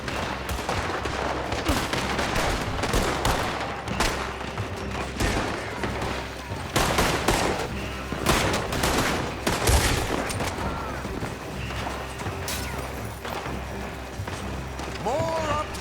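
A Red Dead Redemption 2 shootout rages with rapid, overlapping gunshots and rifle cracks, dense and loud throughout, while characters shout over the firing.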